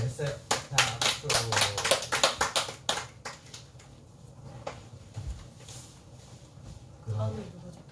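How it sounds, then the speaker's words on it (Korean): Several people in a chromatography study class clap their hands in a short round of applause, a quick, uneven run of close claps that dies away after a few seconds, with scattered taps and some talking afterward. "자, 박수."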